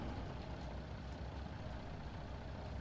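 Steady, loud low-end machinery rumble from a log processor sawing through logs in Farming Simulator 19, a continuous engine-like drone with a faint mechanical clatter and no voices.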